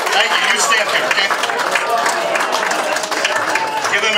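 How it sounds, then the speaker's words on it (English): A theatre audience at a magic show at the Magic Castle applauds volunteers with steady, continuous clapping, while a voice talks over it. "Give them a nice round of applause."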